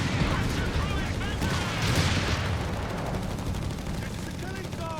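Sustained .30 cal machine gun fire in Company of Heroes 3, a dense, continuous clatter of rapid bursts mixed with battle noise and distant booms, steady and loud throughout.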